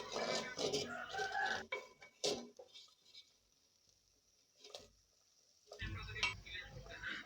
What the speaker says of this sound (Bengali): আবারও একটু নেড়ে ছেড়ে নিচ্ছি